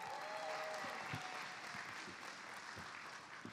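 Lively, continuous applause and scattered cheering from a stand-up comedy audience greeting a performer, sustained at an even level throughout with no voices standing out.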